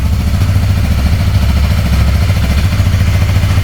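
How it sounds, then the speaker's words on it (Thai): A 2017 Honda Rebel 300 single-cylinder motorcycle engine thumps nearby with a deep, loud, chugging beat, its revs rising slightly. "เดี๋ยวผมจะลองเบิ้ลให้เพื่อนๆฟังนะครับเสียงของเจ้าคันนี้"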